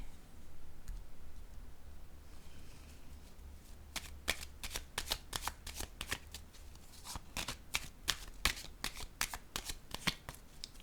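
A deck of cards being shuffled, first a low steady rustle, then from about four seconds a run of quick, crisp riffling clicks close up, with no talk over it.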